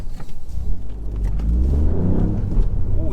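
A stage 1 tuned Ford Fiesta ST rumbles steadily while driving, with a deep, loud engine and exhaust note that rises slightly as it accelerates, heard from inside the car with no talking.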